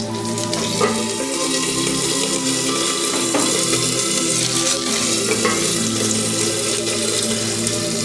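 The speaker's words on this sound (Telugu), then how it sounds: "జీలకర్ర వేస్తున్నాను, తర్వాత కరివేపాకు వేస్తున్నాను." Cumin seeds and curry leaves sputter loudly in hot tempering oil, a dense, continuous crackling sizzle with a few louder bursts as the leaves hit the pan and no one talking.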